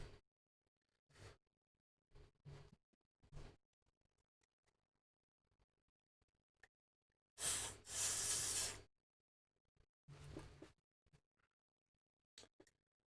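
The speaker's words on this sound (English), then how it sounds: "let's get these sprayed with a bit of WD in it. Stop them getting any rustier." WD-40 lubricant sprayed from an aerosol can onto rusty radio parts: one sustained hissing burst of about a second and a half, close and loud, with quiet handling clatter and scattered knocks before and after.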